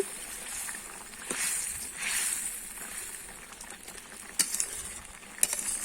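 Fried rupchanda fish being stirred into a simmering potato curry, with soft scraping and stirring sounds at moderate distance and a few sharper clinks near the end, no talking.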